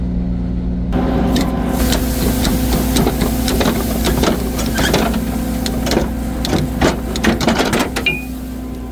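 A farm harvesting machine working ray-grass starts up again after a blocked stone trap is cleared, a loud steady mechanical drone with whirring and repeated clattering knocks close by.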